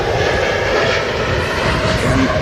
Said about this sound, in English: As the TUI Dreamliner departs the port of Alata.